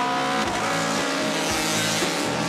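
1970 Honda 750 four-cylinder motorcycle racing past at an AHRMA vintage race at Park City, a loud, continuous high-revving engine roar that fills the whole moment with no speech.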